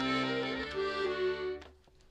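Accordion playing a klezmer tune, with dense sustained reedy chords and a melody line, fairly loud and close, then cutting off abruptly near the end.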